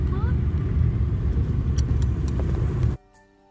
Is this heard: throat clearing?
no